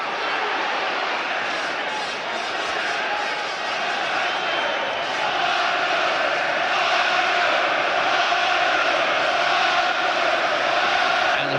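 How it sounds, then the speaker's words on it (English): Boxing crowd in an arena roaring continuously during a Nigel Benn versus Gerald McClellan fight, a loud sustained wall of cheering and shouting with a commentator talking over it. "Crowd roaring now for Ben."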